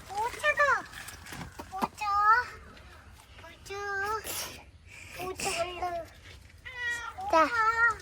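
A household cat meows repeatedly in short, clear cries while children chatter and play close by, their voices mixing with the meows throughout.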